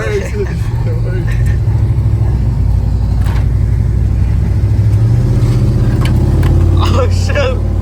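A 1988 Chevy truck's V8 rumbles loud and close with a deep, steady throb and slight revving, while people talk over it.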